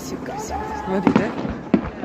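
Fireworks salute popping amid people talking nearby, with two distinct booming bursts about half a second apart.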